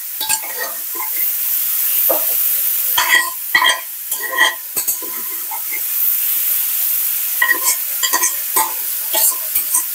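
Flat beans frying in hot oil in a home kitchen pan give a steady sizzle, broken by repeated bursts of stirring and scraping throughout, close and fairly loud with no talking.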